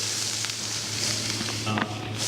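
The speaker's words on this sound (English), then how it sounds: "Can you hear that sizzle? That sizzle's a good thing." Vegetables laid flesh side down in a hot pan in a cookery school kitchen, sizzling and frying with a steady hiss, a low background hum and a few light clinks near the end.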